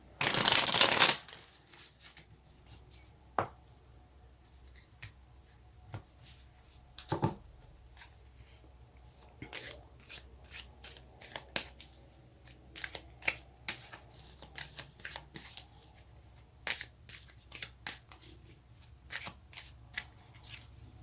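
Tarot cards shuffled and flicked by hand, a loud riffle burst at the start followed by scattered soft snaps and card slides, close and quiet, with no talking.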